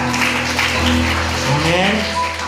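Congregation applauding at a church service, a dense wash of clapping under sustained instrumental music, moderately loud and continuous throughout.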